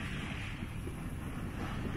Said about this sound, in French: Un petit vent, mais alors bien sympathique